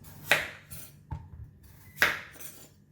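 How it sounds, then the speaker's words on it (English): A kitchen knife slices through the ends of a winter melon on a board: two sharp, close chopping thuds with lighter clinks between them, separated by quiet pauses. "First, start with cutting the winter melon."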